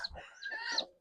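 Country chickens in a farm shed cluck and squawk briefly and faintly nearby, a short flurry of agitated calls.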